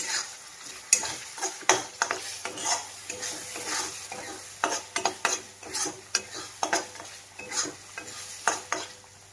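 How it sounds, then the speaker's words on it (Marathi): Chili powder and masala for misal roasting in oil in a pan, with a spoon scraping and clinking against the pan in irregular strokes over a soft sizzle, close up and with no voices. "मसाला आहे ना एकदम छान असा भाजला गेलेला आहे, बघा कसं छान असं तेल सुटलेलं आहे."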